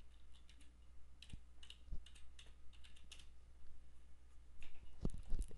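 Quiet typing on a computer keyboard: soft, irregular key clicks close by with small pauses, and a slightly busier flurry of keystrokes toward the end.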